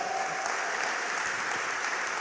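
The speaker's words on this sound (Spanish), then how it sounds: "Dele más fuerte el aplauso al Señor" A church congregation applauds during a Sunday morning service, a steady, sustained round of clapping heard at moderate distance with no voices over it.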